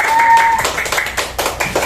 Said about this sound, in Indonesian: beri tepuk tangan yang meriah untuk Ibu